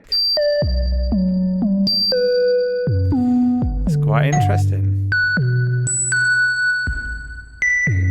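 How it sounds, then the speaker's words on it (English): MIDI FX plugin synthesizer tones ring out in a series of sliding, stepping notes with bright harmonics, some piercingly high. A voice speaks briefly partway through. "we are getting some really high-pitched, quite ear-piercing tones"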